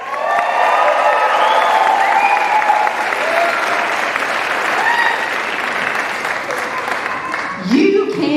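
A graduation audience at a high school equivalency ceremony breaks into loud, sustained applause mixed with cheers and whoops, a dense wall of clapping holding steady for several seconds before tapering slightly at the end.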